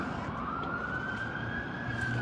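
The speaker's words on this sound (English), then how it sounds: "Okay, we got an ambulance." An ambulance siren wails steadily during a Las Vegas storm, a rising continuous tone over dense rumbling background noise that stays loud for the whole stretch.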